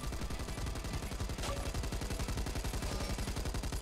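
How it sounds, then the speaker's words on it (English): Sustained rapid light-machine-gun fire from the Back 4 Blood shooter, a dense unbroken stream of evenly spaced shots, loud and close, with no pauses or voices. "So we're gonna fire off some rounds here."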